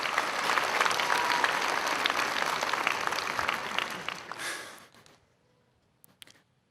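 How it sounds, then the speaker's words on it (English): Audience at a university graduation commencement ceremony applauds steadily for several seconds, loud and dense, then the clapping fades out into near silence with a couple of faint late claps. "give a round of applause to all their family and friends"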